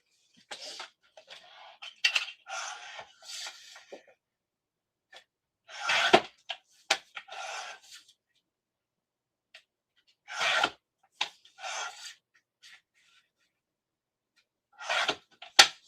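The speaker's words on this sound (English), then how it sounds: "So I do need to trim one more panel of A2 cardstock." A paper trimmer cuts a panel of A2 cardstock in short rasping and sliding strokes, each followed by quiet pauses, close and fairly clear with no talk.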